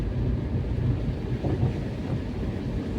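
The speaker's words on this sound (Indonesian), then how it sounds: "Jadi pagi hari ini hujan." Rain on a morning commute to work: a steady, dense rumbling wash of rainfall and road noise, continuous and fairly loud throughout with no speech.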